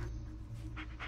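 A dog panting in the game Blair Witch, short quick breaths in a steady rhythm, close and fairly quiet over a low background hum.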